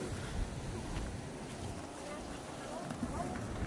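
Large sea waves crashing together, a rough continuous wash of surf with wind buffeting the microphone, with people talking faintly nearby.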